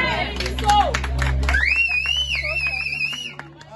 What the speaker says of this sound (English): As we are applauding them, let them take their seat